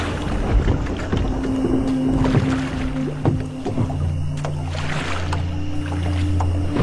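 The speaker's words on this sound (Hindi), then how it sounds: "नाव आगे बढ़ने लगी" A wooden rowboat moves along a river at night, with steady water sloshing and the creak and splash of oars under a constant low hum and light wind, with no voices.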